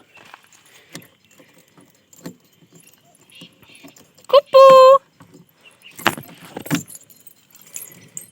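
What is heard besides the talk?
keys jangling while trying car key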